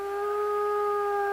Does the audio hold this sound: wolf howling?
yes